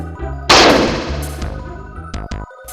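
Gunshots ring out in the bad ending of the SNES game Majuu Ou: one loud retro-synth blast with a long decaying burst, then two quick sharp shots after it, set against game music.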